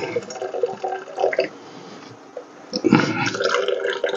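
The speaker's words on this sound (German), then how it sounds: "So, immer schön Wasser abschütten, ne?" Cooking water poured off boiled savoy cabbage in a home kitchen, a steady splashing rush of liquid that swells louder toward the end, with faint talk underneath.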